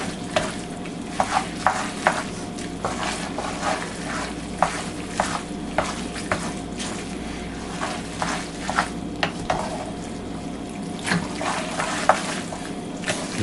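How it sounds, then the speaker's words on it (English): Cooked spaghetti being stirred into sauce in a hot metal pan, with repeated wet clacking and squelching strokes over a constant background sizzle, close and fairly loud. "we're going to mix the spaghetti in with the sauce"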